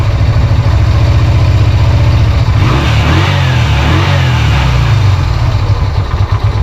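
A small engine, in neutral and with a touch of choke applied, fires on the first push of its start button and settles into a steady, loud, close running drone.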